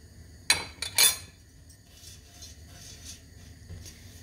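Ghee-roasted vermicelli being stirred in a pan, with two or three sharp metal clinks of a spoon against the pan early on, then a soft continuous low sizzle and faint scraping.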